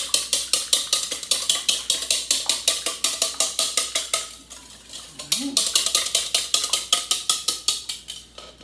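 Eggs being whisked in a bowl for a frittata, about ten of them, with a fast, steady run of sharp clinks and scrapes against the bowl. The beating pauses briefly partway through, then resumes.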